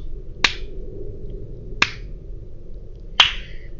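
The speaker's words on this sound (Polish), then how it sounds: "Zmieścił się moduł spowolnionych oklasków." Three slow, evenly spaced sharp claps ring out alone about 1.4 seconds apart in the Portal video game, crisp and close over a low background hum.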